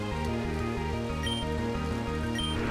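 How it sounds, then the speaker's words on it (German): In Pokémon FireRed, acid rain dissolves a Poké Ball, heard as a constant rain-like hiss laid over looping chiptune game music with a steady repeating bass pattern. "Der saure Regen löst den Pokéball auf."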